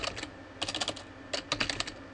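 Computer keyboard typing, close and quiet, in two quick bursts of clustered keystrokes separated by a brief pause.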